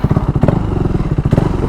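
A heated-up KTM 390 motorcycle chugs close by with rapid, rhythmic exhaust pops and thumps over a rough engine idle.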